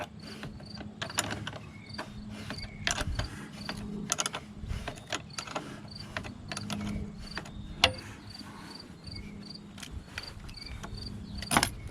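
A 10mm wrench loosening the negative battery terminal on a car, close metallic clicks and ratcheting ticks repeating irregularly across the span, fairly quiet with no talk.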